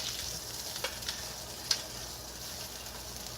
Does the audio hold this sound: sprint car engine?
no